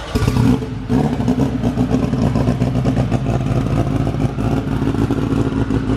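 A Honda Civic drag car engine revs hard on a dyno, a loud, raspy, pulsing roar held at high revs with a brief dip near the start, close up and without talk.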